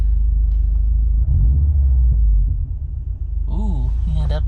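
A 2011 Subaru Impreza WRX hatchback engine gives a loud, deep idling rumble that swells briefly, then a voice speaks over the lower engine drone near the end.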